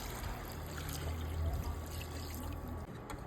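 Six cups of water poured into a pot of rice for rice porridge, a steady soft pour and trickle heard close up.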